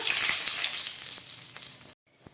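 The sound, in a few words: whole spices sizzling in hot fish-frying oil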